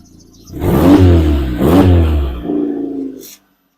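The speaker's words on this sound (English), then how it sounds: "And then when you open up the exhaust, see that?" Turbocharged Hyundai Getz engine revving with the exhaust cutout valve open, two loud, close blips rising and falling, then a shorter lower rev before cutting off abruptly.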